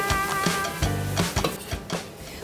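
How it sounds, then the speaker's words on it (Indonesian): Vegetables are stirred and tossed in a pan of hot frying oil with shallots and garlic, a spatula scraping and clinking against the metal in quick irregular strokes over a soft sizzle, close and fairly loud. "Terus aduk-aduk nih sampai sayurnya layu"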